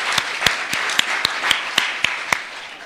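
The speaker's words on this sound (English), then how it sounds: "Another round of applause for our musicians today." Congregation applause for the musicians at a Lutheran Christmas Eve family service in Greensboro, with a row of regular, sharp claps, one or two hands in rhythm, ringing over softer scattered clapping in the church.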